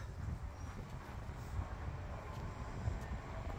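A ScotRail train arrives at Edinburgh Park station with a low steady rumble and rolling noise under the open air of the platform, moderately faint and without speech.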